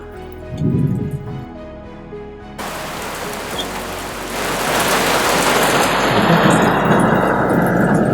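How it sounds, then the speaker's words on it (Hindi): Rain and thunder effect, with a deep thunder rumble rolling in at the start before dense steady rainfall takes over, growing heavier and louder toward the end. "बारिश हो रही है"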